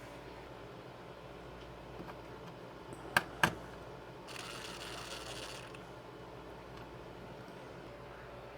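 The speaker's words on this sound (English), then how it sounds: "put the rest of the screws back in" Screws being driven back into the casing of a Hilti C4/36-350 battery charger during repair, heard as a couple of sharp metallic clicks followed by a brief soft ratcheting whir over a quiet background.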